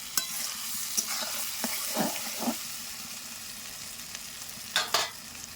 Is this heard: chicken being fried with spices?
yes